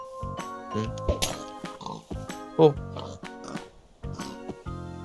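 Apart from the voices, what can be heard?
pig oinking in Minecraft video game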